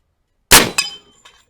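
A slug from an SWA 20 gauge air shotgun slams into a target with one sharp, loud metallic clang, a quick second hit and a faint rattle afterward, with no talking.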